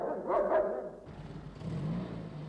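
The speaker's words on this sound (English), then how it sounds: "And he barked louder when he saw Midge being cleared into the sack too." A dog in an animated children's story barks a couple of times close by, followed by a lower rumbling background.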